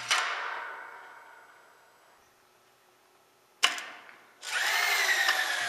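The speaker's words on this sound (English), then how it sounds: "Install the wood screw. No pilot hole is needed" A power drill whirs briefly, fades, then kicks in again with a sharp start and a sustained high whine as it drives a Sammy Super Screw wood screw without a pilot hole.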